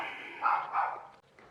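A small dog barks in a backyard: two short muffled yaps in quick succession, somewhat distant and faint, with no talking over them.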